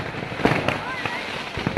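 Firecrackers bursting along village streets during a celebration, several sharp pops at irregular intervals, some near and some farther off, over a background of crowd noise and talk.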